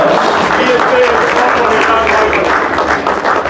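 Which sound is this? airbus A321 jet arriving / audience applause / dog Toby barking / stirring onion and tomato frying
audience applause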